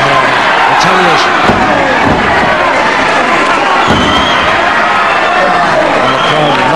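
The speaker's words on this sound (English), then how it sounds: "And the crowd loving it." A crowd at a 1978 professional wrestling match roars and cheers continuously, with thuds from the ring and a commentator talking over the noise.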